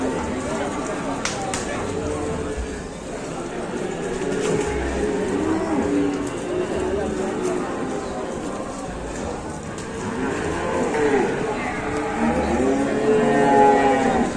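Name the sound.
cattle mooing after unloading from truck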